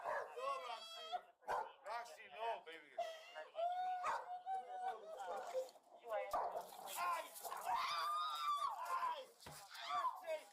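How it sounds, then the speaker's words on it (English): An overexcited pet dog barks, yips and whimpers repeatedly, close by and fairly loud, in quick bursts mixed with people talking over it. "the couple's dog gets overexcited"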